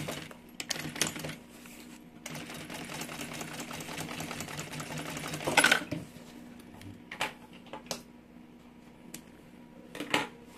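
A sewing machine stitches a mini backpack in several bursts of rapid mechanical whirring, the longest running steadily for a few seconds, with clicks and small handling knocks in between.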